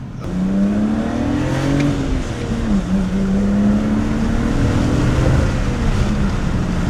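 A BMW car engine revs steadily for several seconds, its pitch rising and holding in a loud, continuous drone with a few surges, no voices.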